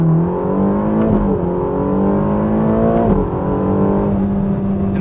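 A Ferrari Roma accelerates hard toward 100 mph, its engine note climbing steadily through gear changes with a loud, continuous rising drone close by.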